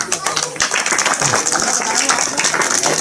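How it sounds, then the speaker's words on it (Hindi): An audience at a public gathering about Babasaheb Ambedkar's ideology in Modinagar claps in steady, dense applause that lasts throughout. The crowd sounds close and loud, with faint voices mixed in. "ताली बजाओ जरा।"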